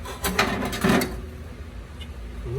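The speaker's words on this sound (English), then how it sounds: "so we found our rod knock" Irregular metallic rod knock from the number 2 cylinder of a running engine: several sharp taps rise over a steady mechanical clatter and hum.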